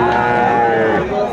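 Close, loud mooing from a Friesian bull calf at a cattle market, one sustained bellow filling the moment, with market noise faintly behind it.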